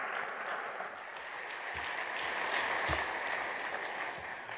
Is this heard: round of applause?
yes